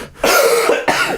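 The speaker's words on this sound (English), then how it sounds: "I can't laugh without coughing." A person coughs in a short, harsh burst: one strong cough followed quickly by a second, close and loud with no talking.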